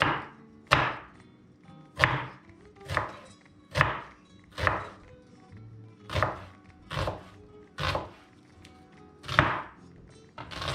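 A knife slices a halved onion into thin rings on a cutting board, about a dozen evenly spaced, crisp chops in a steady rhythm, close and fairly quiet.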